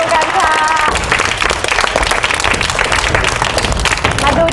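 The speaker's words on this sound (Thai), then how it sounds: "ปรบมือครับ" Studio audience on a Thai TV variety show breaks into loud, dense applause, a continuous rattle of many hands clapping close and full for several seconds.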